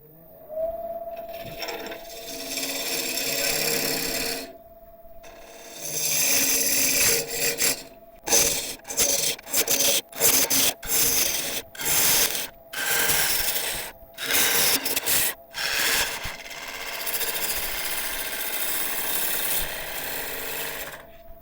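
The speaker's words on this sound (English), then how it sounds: "turning speed now is about 1100 RPM, carrying on with a 3/8 inch bowl gouge" A wood lathe spinning a freshly sharpened 3/8 inch bowl gouge into a Thuya burl at about 1100 RPM, with a rough, raspy scraping that comes in a run of short, regular cuts separated by brief silences.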